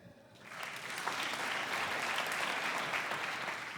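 A comedy club audience breaks into clapping that swells within half a second to a dense, sustained round of applause, close and steady, then eases slightly toward the end.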